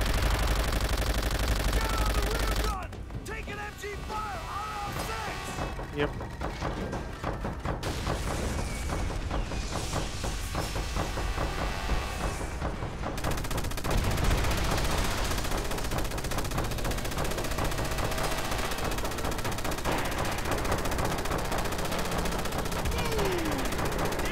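Sustained bursts of machine-gun fire and scattered gunshots from Call of Duty: World at War, dense and loud for the whole stretch, with booms and battlefield clatter mixed in and occasional voice over the top.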